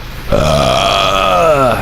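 A man lets out one long, loud belch at close range. It starts suddenly and holds a deep, throaty, tonal rasp for about a second and a half.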